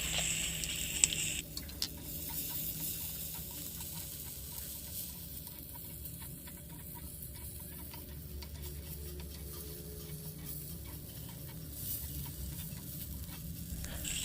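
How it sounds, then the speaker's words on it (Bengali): Red lentils being stir-fried in a pan with tomato, salt and turmeric for dal chorchori, a soft steady scraping and faint sizzle running continuously with no one talking. "মুসুর ডাল দেওয়ার পরে খানিকক্ষণ নাড়াচাড়া করে একটু ভেজে নিয়ে"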